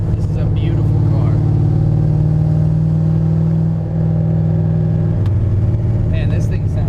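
A 1971 Camaro with a 383 stroker V8 and Tremec 600 five-speed running in traffic, its deep lumpy idle rumbling steadily up close, with someone talking over it.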